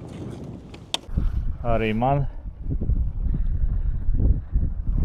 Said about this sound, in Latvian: Vējš ir baigais